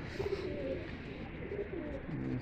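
Pigeons at a pigeon-keeping gathering in Lahore, soft repeated low cooing from a few birds over a faint background hum, fairly quiet.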